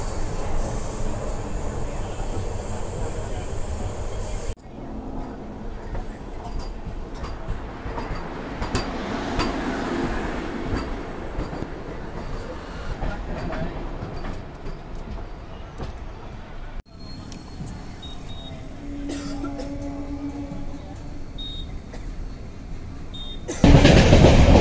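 Pandian Express passenger train running from Madurai to Chennai, heard from inside an unreserved coach: a continuous rumbling, rattling roar with shifting mechanical tones, loud and close, a sudden change partway through, and faint voices underneath.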